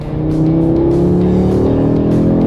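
A Porsche Cayman GT4 RS accelerating on the Poznań race track, its engine droning loud and steady with a rising pitch as the throttle opens, heard from inside the car.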